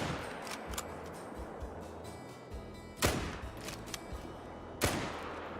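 A .303 rifle fires in the hunting game Call of the Wild, two sharp, loud single shots about two seconds apart over a low ambient bed of wind and wildlife.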